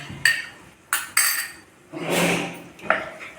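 A utensil clanks and scrapes against a metal cooking pan while spices are stirred, several sharp separate knocks followed by a longer scraping sweep, close and fairly quiet.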